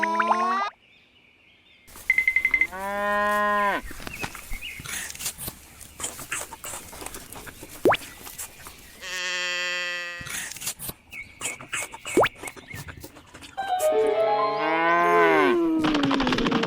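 Cows moo repeatedly in long, drawn-out calls, loud and near, separated by gaps with clicks and shuffling noises.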